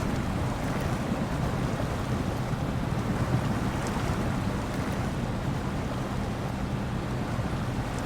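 A truck churning through water in the video game SnowRunner, a steady low engine drone mixed with a broad washing, splashing hiss that stays even throughout.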